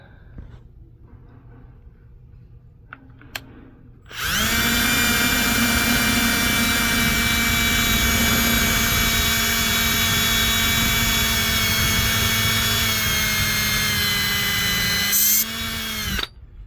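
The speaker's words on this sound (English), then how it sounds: "So we've got all of our screw holes drilled." A power drill whines loudly and steadily for about twelve seconds while boring screw holes in a Brunswick GSX pinsetter kickback plate, starting abruptly after a few quiet handling clicks and stopping with a brief wind-down.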